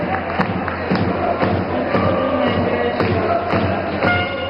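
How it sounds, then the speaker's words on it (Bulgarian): A basketball crowd on its feet cheering in an indoor arena, a dense, loud roar of voices with shouts and whistles, a commentator talking over it. "Вече публиката е на крака, както се случва на всеки един матч на Дунав в зала Дунав"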